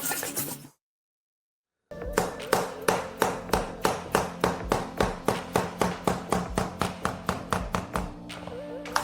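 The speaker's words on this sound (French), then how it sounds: "je le tape avec un maillet en caoutchouc ou peut-être un marteau" Rubber mallet tapping click vinyl flooring planks laid loose over coated tiles: a steady run of about twenty close, sharp taps in even rhythm after a brief silence.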